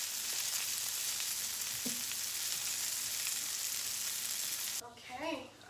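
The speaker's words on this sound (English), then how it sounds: "we're going to reduce the heat. And we're just going to have this simmer." Sauce simmering in a pan over reduced heat gives a steady, soft sizzling hiss throughout, with a faint clink early on and a brief louder scrape near the end.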